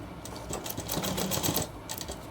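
An electric sewing machine runs a steady stitching seam across shirt fabric, a continuous fast mechanical whir with rapid clatter that holds close and moderately loud for about two seconds.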